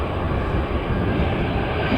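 An EasyJet Airbus A320 bound for Madrid at Manchester Airport, heard as a steady broadband engine roar that holds even and continuous throughout.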